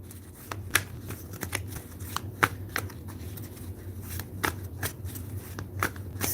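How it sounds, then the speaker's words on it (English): Tarot cards shuffled by hand in a quiet room, a steady papery riffle punctuated by sharp, irregular snaps and slaps as cards fall together, close to the microphone with no talking. "As I shuffle your cards"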